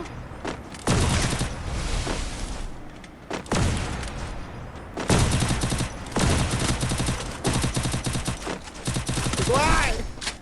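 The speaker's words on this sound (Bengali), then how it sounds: "রিঙ্কু ভাই ওরে তুমি কি হেডশট মারতে চাইতেছো এডব্লিউএম দিয়ে" Gunfire in a video game, with an AWM sniper rifle in use, comes in loud, dense bursts of repeated shots and booms, separated by brief lulls.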